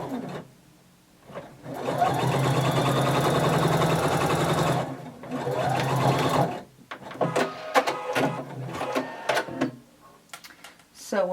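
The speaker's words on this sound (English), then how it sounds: "we're going to sew from that 8-inch mark all the way down" A sewing machine stitches a seam on a maxi dress, with two steady runs of rapid mechanical whirring separated by a short pause, followed by someone speaking.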